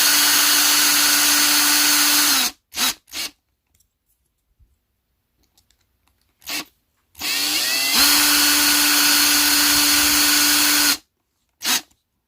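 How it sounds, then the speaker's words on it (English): A power drill whirs in two long bursts with several short trigger blips between, close and loud, while building a TRX-4 RC truck, then falls silent. "Let's use a drill for faster purposes."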